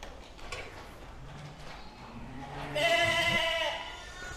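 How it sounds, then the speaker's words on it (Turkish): Sheep bleating at a livestock farm where an open gate has let the animals loose, a few close, loud bleats near the end over a faint background. "Koyun kaçıyor, koyun kaçıyor."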